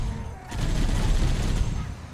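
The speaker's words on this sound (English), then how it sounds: "The shield is like deflecting all the bullets." Sustained gunfire and bullets deflecting off an energy shield in the Halo 1 campaign, Mission 2 on Legendary, a dense continuous burst of overlapping shots that starts at once and holds steady and fairly loud throughout.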